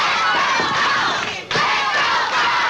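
A partisan arena crowd roars and cheers continuously at a 1982 Georgia Championship Wrestling rematch, a loud dense wall of voices with a brief dip before surging again.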